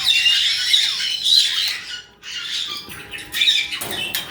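A flock of pet birds in an indoor bird room squawks and chatters in loud, overlapping bursts, with light scratching and pattering beneath and a brief lull midway.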